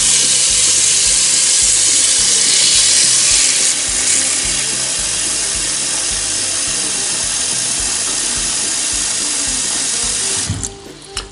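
Water poured into a pot for cooking beans, a loud steady rushing splash that runs for about ten seconds before cutting off, with no talking.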